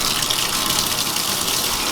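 Steady, dense rush of water pouring from a motel shower in an American motel, a continuous broadband hiss that fills the space close by with no voices over it.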